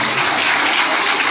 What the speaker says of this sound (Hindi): तो इस बात के लिए भी ताली, बहुत अच्छे लग रहे हो आप।